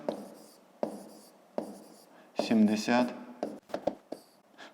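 Numbers are written by hand with a pen on paper, giving several short scratchy strokes in a rhythmic series, close and clear, with a person speaking over part of it.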